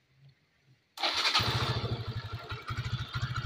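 A Yamaha Xeon 125 FI motorcycle is restarted: a brief starter whir, then the engine catches abruptly and settles into a close, loud, evenly pulsing idle.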